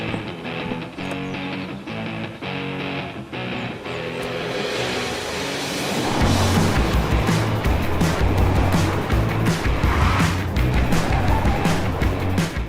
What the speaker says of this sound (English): take this all-new Honda Civic out for a spin around this beautiful